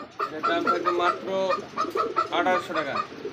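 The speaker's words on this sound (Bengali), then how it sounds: "যেটা ডাকতেছে ঘুরে ফিরাটা হচ্ছে নর কবুতর" A male pigeon coos up close in repeated throaty bursts with a steady rhythm, kept among other pigeons for sale.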